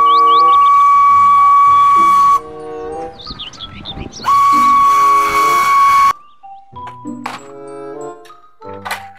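A Thomas toy train sounds an electronic steam whistle in long bright tones broken by chugging hiss, thunks and a cheerful jingle, loud and close.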